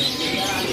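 A canary sings in a bird shop kiosk, a short, bright burst of chirping over the busy background of the shop.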